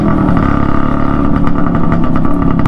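A noisy Suzuki X4 two-stroke motorcycle engine idles loud and close, with a continuous buzzing, rattling drone and no speech.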